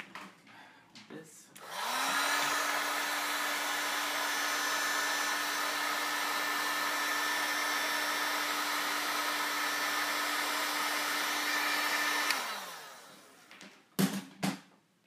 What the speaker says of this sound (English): That is a heat gun, and it just makes this go really fast.